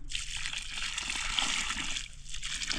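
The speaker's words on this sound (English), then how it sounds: "place a little water for good luck" Water poured little by little onto the ground at a new house site, a steady splashing trickle close by that briefly thins out before resuming.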